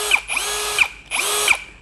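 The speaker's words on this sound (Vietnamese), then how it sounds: "Đây là dòng máy khoan với hai cấp độ trượt nhanh và chậm cho anh em như thế này." DEKTON dK 2140MKT cordless drill running at fast and slow speeds, its motor whirring in repeated bursts that rise and fall, close and loud with a ratcheting edge and no talk.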